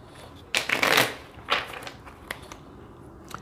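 Tarot cards are shuffled and drawn close up: a burst of riffling and flicking paper, then several lighter, separate card slaps and slides, with no one speaking.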